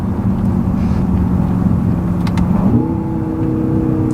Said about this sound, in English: The downshifts are extremely nice.